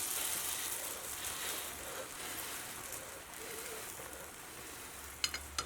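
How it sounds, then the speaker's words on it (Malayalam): Milk boiling hard in a pan on a high flame gives a steady bubbling sizzle throughout, with a couple of faint clinks near the end. "അപ്പോൾ നമ്മുടെ പാല് നന്നായിട്ട് തിളച്ചിട്ടുണ്ട്"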